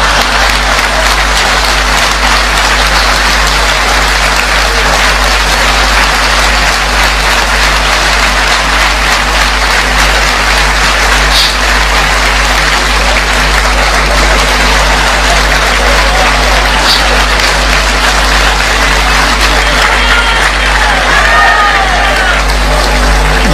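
Loud, sustained applause from an audience at a religious discourse in honour of Sri Satyapramoda Tirtharu, continuous clapping that holds steady for over twenty seconds with no speech over it.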